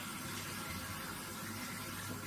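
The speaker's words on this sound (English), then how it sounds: "Wash it in cold water in the sink" Cold tap water runs into a sink in a disabled toilet, a soft, continuous hiss and splash that stays steady and fairly faint, with no talking.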